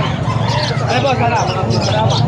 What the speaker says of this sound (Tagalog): Oh, maraming ibon si Kuya Gilbert ngayon.